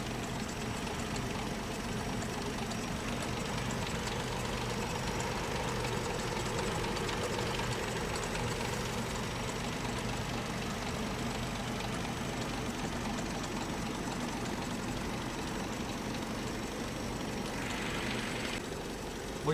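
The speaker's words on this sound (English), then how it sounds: "Yeah, it's idling nice now, isn't it?" A pre-war Rolls-Royce engine idles steadily after a cold start, a smooth, even, low rumble with a fine regular ticking running throughout, close and continuous with no talking.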